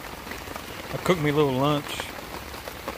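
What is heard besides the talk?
rain falling outside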